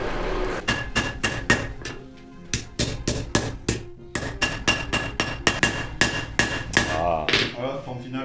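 A blacksmith hammers hot metal at a coal forge with a steady run of loud, ringing, metallic blows close by, each one sharp and bright, with a short pause midway and a brief voice near the end.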